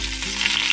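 Green chilies and curry leaves fry in hot oil, giving a brief, close, continuous crackling sizzle with no voices.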